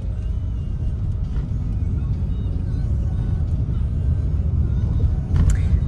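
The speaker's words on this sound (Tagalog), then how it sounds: "Sobrang traffic na." Heavy, slow-moving road traffic rumbles with a dense, constant low engine drone heard from inside a vehicle, and a faint higher hiss swells briefly near the end.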